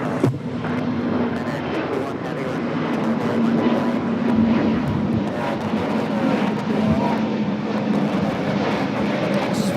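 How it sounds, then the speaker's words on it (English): Volaris Airbus A320neo taking off at Los Angeles International Airport bound for Guadalajara, a broad steady jet roar with a low engine hum sustained throughout, faint voices and ambient airport noise mixed in. "Volaris 1713 taking off to Guadalajara on the A320neo."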